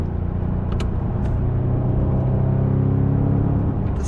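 Audi S8 D4 engine droning under load while driving, a loud deep rumbling with steady low harmonics that swells slightly midway as the car pulls.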